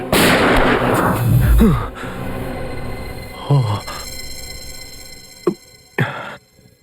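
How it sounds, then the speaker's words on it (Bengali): Gunshots ring out in a Bengali-dubbed TV crime drama, with sharp, loud reports among dramatic sound effects, the clearest two coming close together near the end. "শুট অভিজিৎ, শুট, বলো।"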